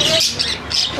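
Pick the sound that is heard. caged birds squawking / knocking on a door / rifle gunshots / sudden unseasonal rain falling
caged birds squawking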